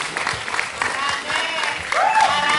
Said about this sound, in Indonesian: Wis, tepuk tangan kalian belum?